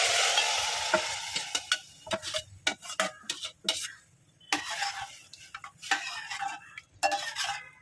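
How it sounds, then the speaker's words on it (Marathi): Dal (lentils) tipped into a hot pan and stirred, giving a soft sizzle and repeated scraping and clinking of a spoon against the metal, close and in irregular bursts. "डाळ ओतून घेऊया"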